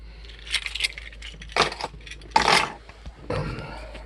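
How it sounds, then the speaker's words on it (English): Two sets of keyless entry keys for a 2020 Greyhawk 27U motorhome chassis jangle and clink in four short rattling bursts, close and moderately loud, with no talking. "You have two sets of keys here, 2 keyless entry."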